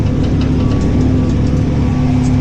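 A tractor engine runs at a steady, loud, low drone while pulling a 4-furrow plough with a front weight block through grass, an unbroken rumble close by with no talk over it.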